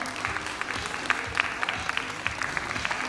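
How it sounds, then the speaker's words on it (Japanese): At a 2on2 dance battle, a crowd claps with sharp scattered slaps standing out over a steady background of applause and music, moderately loud throughout. "高徳氏のでかい拍手"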